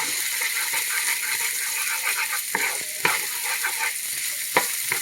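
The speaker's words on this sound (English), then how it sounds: "I'm gonna put at least half cup of chopped onion. I'm gonna stir this." Chopped onion sizzles steadily in hot oil in a pan, with scattered scraping and clinking strokes as it is stirred; close, continuous frying hiss with a few sharper knocks of the utensil.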